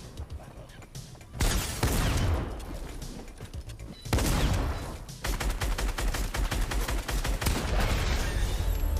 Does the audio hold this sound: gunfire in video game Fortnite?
yes